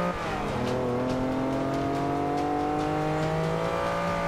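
Race car engine in Forza Motorsport 5 holding a loud, steady high-revving drone with slowly shifting pitch, continuous and close, with no talk over it.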